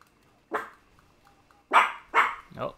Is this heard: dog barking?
yes